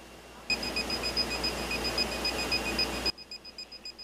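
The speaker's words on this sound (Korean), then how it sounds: "측정기에서 경보가 울리고" Toxic gas detector alarm during a test with harmful gas, a rapid continuous electronic beeping tone for about three seconds that then breaks into short repeated beeps, close and clear.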